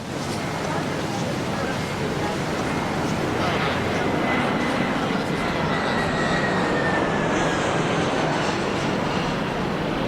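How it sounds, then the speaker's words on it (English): An airplane passes overhead as a steady, loud, broad roar that fills the whole stretch without letup, with a faint whine drifting across its middle. "It's just a plane."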